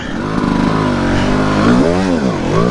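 A TM EN300fi dirt bike engine revs hard in second gear, its loud, close roar climbing and dipping in pitch through the throttle changes without pause.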